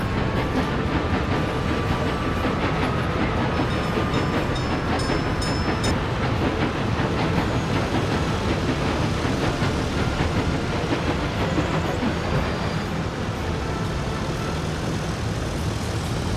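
A small oil train in the Tropico video game rolls steadily along its track, with continuous clattering wheel noise and rumble throughout and no talking.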